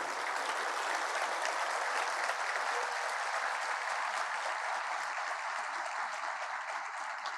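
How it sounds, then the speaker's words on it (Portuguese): Sustained applause from a crowd, steady and dense throughout, with no voices rising above the clapping. "eu queria pedir uma salva de palmas para o time do SEI Biogás"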